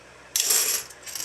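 Saved coins pour out in a sudden bright metallic cascade that rattles loudly for a moment, thins, then picks up again as more coins tumble, close by with no talking.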